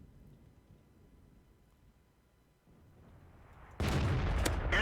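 A tank cannon shot from the Challenger in World of Tanks, a sudden loud blast near the end after a low rumbling engine bed, with the report ringing out briefly.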